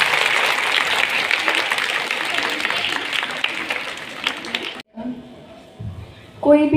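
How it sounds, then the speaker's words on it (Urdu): An audience at a school inter-house competition applauds to welcome a speaker, a dense, loud wash of clapping for several seconds that cuts off abruptly, followed by a few quieter sounds and voices. "تالیوں میں انہیں خوش آمدید کریں۔"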